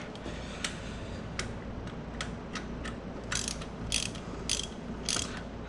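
Ratchet wrench clicks in short, spaced bursts while tightening a bolt on an engine mount of a 2010 Kia Forte, quiet and close, with a few louder metallic ticks toward the end.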